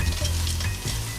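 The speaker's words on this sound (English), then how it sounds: "All right, Rory is gonna stir up the pumpkin seeds" Pumpkin seeds sizzle loudly in a pan as they are stirred, a close, dense crackle with a brief scrape of the utensil partway through and no talk.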